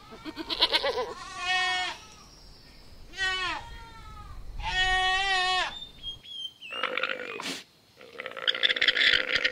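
A goat bleats repeatedly in a farm setting, several loud, wavering calls in a row with short pauses between them, followed by a few rougher, higher cries near the end.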